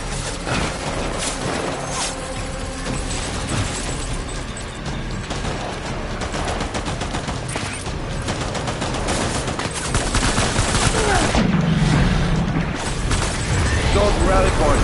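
Continuous game gunfire and booms in Death Stranding, dense and loud throughout with steady layered shots and rumbling, with speech mixed in over the battle.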